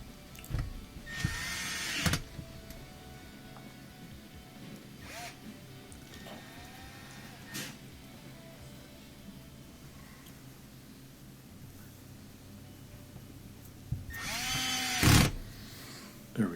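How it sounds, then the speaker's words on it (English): Screws being driven into the impeller housing of a Frigidaire dishwasher that was not spraying water, heard as a few short bursts of whirring tool noise separated by quieter handling sounds, close and fairly loud. "We have to tighten up 3 screws to hold it in."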